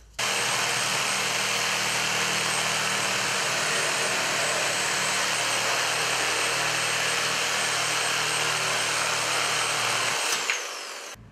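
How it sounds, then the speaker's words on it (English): A reciprocating saw cuts through nail-ridden pallet wood in a loud, steady, continuous buzz lasting about ten seconds, then winds down and stops. "Now I'm going to use a reciprocal saw to cut along there"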